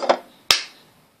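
Two sharp hand claps in a cup song rhythm, the first softer and the second louder and crisper, close and alone with a short decay.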